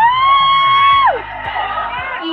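A crowd at a Puregold trade event in the Philippines cheers and whoops loudly, with sustained shouting and a rising, then falling, tonal whoop that fills the whole moment.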